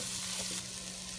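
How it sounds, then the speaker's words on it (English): Vegetables with two tablespoons of flour stirred in sizzle and fry steadily in a pot, a soft continuous crackle with a faint stir partway through. "Okay, so to my vegetables I'm going to add 2 tablespoons of flour. You're going to mix this up and cook it out for 2 minutes."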